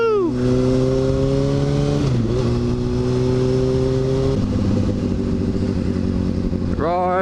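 A supermoto motorcycle rides on the road, its engine loud and close, climbing in pitch through gears with shifts and dips, then revving hard again at the end.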